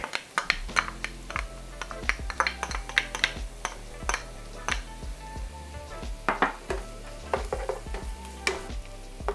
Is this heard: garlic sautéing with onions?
yes